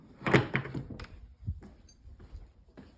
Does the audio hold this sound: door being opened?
yes